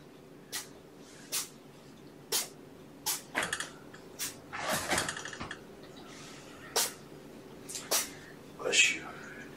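A sneeze in a room with kittens stands out amid a run of sharp clicks and taps, close and fairly loud.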